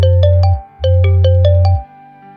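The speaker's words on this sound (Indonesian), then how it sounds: "ada telepon masuk" A phone ringtone in an animated Indonesian drama plays an incoming-call tune: a bright repeating melodic phrase over a steady low buzz, sounding twice in close succession, loud and alone.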